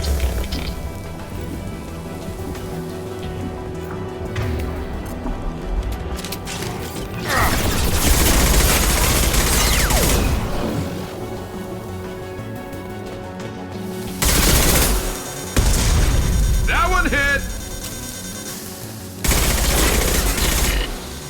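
Mass Effect 2 combat rattles with bursts of rapid automatic gunfire and mechanical weapon clatter. The shooting comes in loud volleys separated by quieter stretches of ambient hum.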